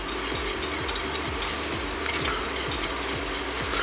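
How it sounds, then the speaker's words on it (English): A spoon stirs a cup of corn grits through boiling water in a pot, scraping in a steady rhythmic pattern of repeated strokes roughly every half second over a low bubbling hiss. "you want to stir the whole 5 minutes"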